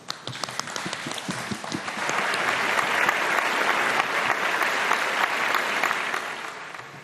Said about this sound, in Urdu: تالیاں میرے لیے تالیاں